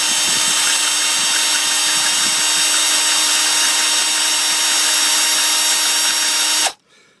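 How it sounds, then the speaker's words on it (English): A power drill whines loudly and steadily for several seconds, drilling out a Phillips screw on a Mercedes W202 C230 during fuel filter replacement, then cuts off abruptly. "So I'm just going to drill out the screw through there"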